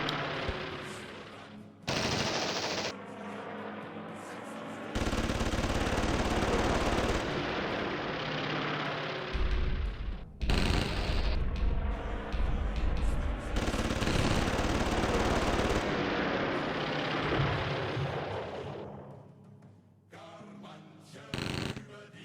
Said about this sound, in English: And we're strafing Biggin Hill. Strafing Kenley.